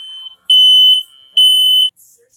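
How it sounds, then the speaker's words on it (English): A smoke alarm goes off in two loud, piercing electronic beeps of about half a second each, separated by short gaps, with no one speaking. "The smoke alarm activated."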